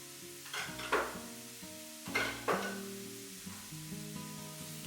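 Chopped onions fry in a hot pan, a steady sizzle running throughout, with a few spoon stirs and scrapes near the start and again around the middle.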